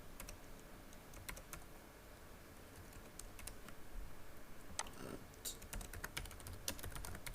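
Rapid, fairly quiet clicking of a computer keyboard, irregular keystrokes pattering steadily under low room noise without speech.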